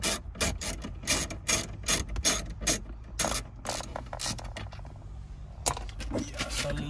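Ratchet wrench backing out the last 7 mm screws from a car stereo mount during an Alpine iLX-W650 head unit install, heard as close, repeated rubbing clicks and metallic rasping bursts with brief pauses.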